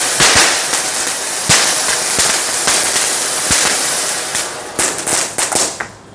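A disco sparkler firecracker burns after lighting, giving loud, close crackling with sharp pops and snaps scattered irregularly, thickening into a denser burst of bangs near the end.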